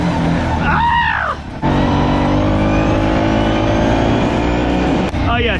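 Kawasaki Prairie 650 four-wheeler ATV engine running loud and close, a steady roar with a rising pitch sweep near the start and another near the end, a brief dip in between and a shout mixed in.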